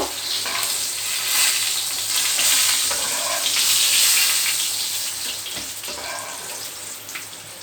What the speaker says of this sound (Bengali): দেখো পটলগুলো আমি সব ভাজতে দিয়ে দিয়েছি। এগুলো একটু ভাজা হোক